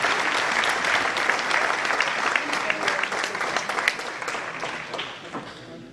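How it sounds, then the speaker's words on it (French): An indoor crowd applauds as a table tennis player is introduced at a club match, steady dense clapping that slowly thins and fades toward the end. "Merci d'applaudir Lubomir Jean-Caric."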